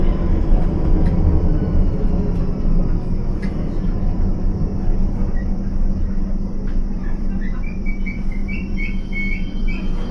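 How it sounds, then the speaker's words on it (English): A London Underground District Line train rumbles steadily nearby at a station at night, a loud continuous roar with faint squeals and whines rising near the end, and no voices over it. "Yeah, there's a District Line train there."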